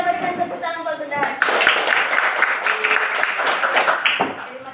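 Clapping breaks out among a group after a rendition of a national song, bursting in about a second in and continuing briskly under talking and voices.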